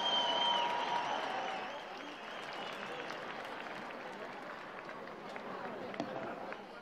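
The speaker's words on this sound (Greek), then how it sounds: "Να υποδεχθούμε πρώτα την κατηγορία των γυναικών με ένα πολύ μεγάλο χειροκρότημα θα ήθελα" Audience applause welcoming the women's category race winners at a New Year's Eve event at the Stavros Niarchos Foundation Cultural Center, steady broad clapping from a crowd that fades slightly after the first seconds, with speech over it.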